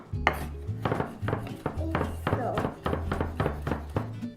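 A knife mincing basil on a cutting board for homemade pesto, with quick, regular thunks and taps, about three or four strikes a second, close and crisp.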